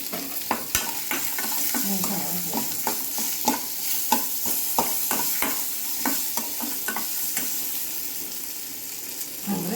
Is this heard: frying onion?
yes